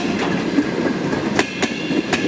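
Railway train rolling along the track, a steady rumble with several sharp metallic clicks of wheels passing rail joints, fairly close and alone.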